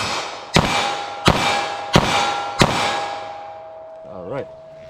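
Sellier & Bellot .38 Special lead round nose loads fired from a snub-nosed revolver, four loud sharp shots in quick succession with ringing metallic decay after each.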